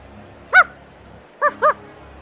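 A dog in the Escaping Carcosa video game barks three times: one short bark, a pause, then two quick barks close together, all clear and close in an otherwise quiet scene.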